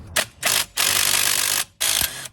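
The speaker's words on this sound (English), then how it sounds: "Wonder if we can get just my 1/2-inch impact and some long sockets into those Allen bolts for the half shaft and get that out." A 1/2-inch impact wrench with a long socket hammers at Allen bolts on the half shaft of a Lexus LS400 (Toyota Celsior) rear suspension. Several short close rattling bursts come first, then one longer sustained burst, with no talking.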